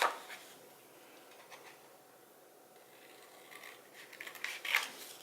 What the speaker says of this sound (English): And you're going to go ahead and cut it.